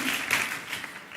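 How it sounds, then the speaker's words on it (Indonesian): A church congregation claps together during an Indonesian sermon, a dense, steady patter of many hands lasting about a second, fairly soft and even. "Tepuk tangan buat Tuhan"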